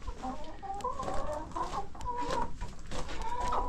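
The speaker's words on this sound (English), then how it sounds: "Got a few chickens in here." Several chickens clucking inside a coop with nesting boxes, a steady close chorus of soft clucks and higher calls over a low background hum, no talking.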